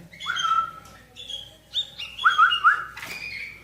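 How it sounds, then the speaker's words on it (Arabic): Iraqi white-cheeked bulbul and hazar bulbul chicks chirping in a series of clear, close tonal calls, several short bursts with brief gaps, no talking. "هذا البلبل ابيض الخدين العراقي، وهذا البلبل الهزر"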